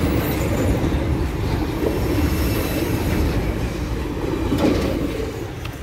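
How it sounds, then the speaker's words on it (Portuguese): A train runs fast along the rails, a loud continuous low rumble and rattle of wheels and cars passing close, with faint high wheel squeal and no talking. "O trem agora está correndo mais."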